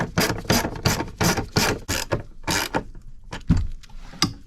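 A 10 mm wrench tightening bolts on Ricochet armored floor board plates, a series of quick close ratcheting bursts in uneven rhythm with brief gaps, metal clicking against metal.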